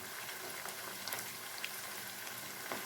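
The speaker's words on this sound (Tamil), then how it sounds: "எண்ணெயில் நல்லா வேகட்டுங்க." Chicken 65 pieces fry in hot oil, a soft, steady sizzle with scattered small pops and crackles throughout, fairly quiet and without any voices.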